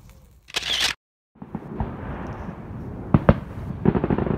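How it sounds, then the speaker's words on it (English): A fireworks display goes off out of sight near a fishing lake at night, with scattered sharp bangs and crackles at a moderate distance amid a rumbling background. "Nothing like a good firework display, you can't see, is there now?"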